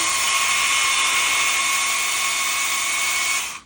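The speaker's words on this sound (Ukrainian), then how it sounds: "Ось таким чином ви можете собі підрізати гілля." A Kraissman pole pruner cuts tree branches with a loud, steady, high-pitched motor whine that holds for about three and a half seconds and then stops abruptly.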